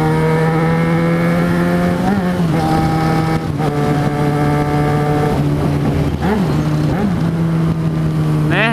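A Yamaha XJ6 motorcycle carrying a passenger accelerates on a straight road. Its engine drone sounds close and steady, with revs climbing and dipping between gear changes, over constant wind rush.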